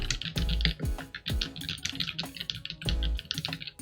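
Typing on a Keychron C3 keyboard with red linear switches: quick irregular runs of soft, muted keystrokes, close and fairly quiet, with brief pauses between bursts and no voices.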